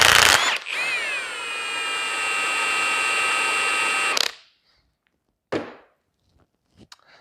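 A Milwaukee 2767 high-torque impact wrench runs in its mode setting, spinning up with a loud, close mechanical whine and steady hammering for about four seconds. It then stops dead, followed by near silence and a few faint clunks.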